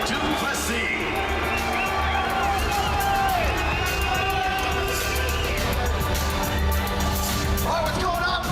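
A large, loud crowd cheers and whoops continuously at a UFC 305 press conference in Perth, Western Australia, welcoming middleweight champion Dricus du Plessis, with steady roaring and shouting throughout.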